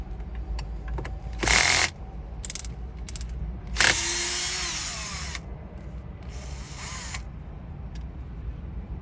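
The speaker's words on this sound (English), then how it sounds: "They are T20 type screws, so go ahead and undo these two." T20 screws come out of a 2010–2012 Mercedes-Benz GLK dashboard in several short, sharp whirring bursts of a driver, with faint clicks between them.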